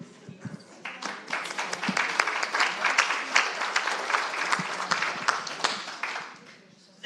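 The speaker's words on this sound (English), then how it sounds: "give him a round of applause." An audience at an online academic colloquium on proverbs gives a round of applause, many sharp claps building quickly, holding steady for several seconds, then tapering off near the end.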